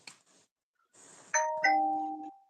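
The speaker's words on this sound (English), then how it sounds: "that's a notification on my phone." A doorbell-like notification chime from a phone rings out as two clear ding tones that ring on and fade slowly, heard close after brief faint voices in a quiet room.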